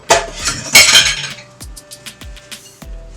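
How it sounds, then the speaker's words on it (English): A whisk clinks and rattles against a bowl while mixing dry baking soda and baking powder, loud and close, in quick bursts followed by several separate sharp taps. "And I'm just going to whisk that all together."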